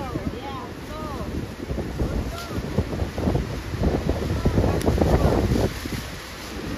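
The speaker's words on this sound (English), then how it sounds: "I've got to turn my hat around because the wind's blowing pretty hard" Strong wind at the Cave of the Winds at Niagara Falls, buffeting the microphone in a loud, rough, continuous rush that swells and fades, with people talking under it.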